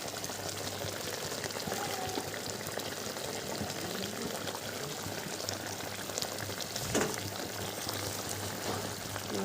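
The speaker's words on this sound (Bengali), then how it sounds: "একটু কাঁচা সরষের তেল ছেড়ে দিচ্ছি" Raw mustard oil hits a hot pan for a Bengali chilli dish, giving a steady, loud bubbling sizzle that fills the whole stretch, with a brief surge near the end.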